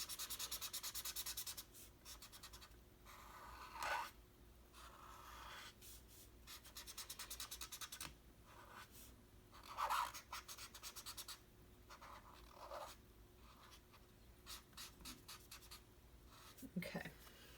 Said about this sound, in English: you can also have this student do all the scribbling part that's coming up next